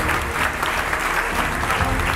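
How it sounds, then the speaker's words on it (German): Crowd applause for the winning team at a Fortnite gaming tournament, dense steady clapping throughout, loud and close. "an alle Teilnehmer einen tosenden Applaus für das Team von Abu, Chef Strobel und Frey"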